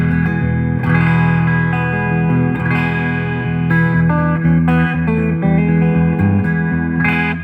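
Electric guitar with hot P90 pickups and the volume on full, played clean with no breakup through a flanger-type modulation effect; loud, sustained chords and notes ring continuously with a swirling, wet tone and no talking.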